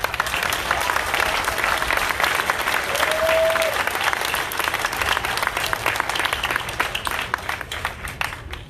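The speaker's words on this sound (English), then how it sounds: "I think you guys deserve a round of applause for that" A crowd at a Black Lives Matter rally in Gresham applauds: sustained, dense clapping with scattered cheers that stays strong throughout and tapers only slightly at the end.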